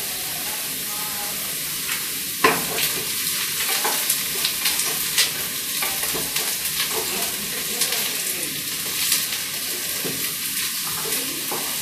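Food sizzles and fries in a pan on a home stove as a utensil stirs it, giving steady hissing with scattered scraping clicks and small bumps at moderate loudness.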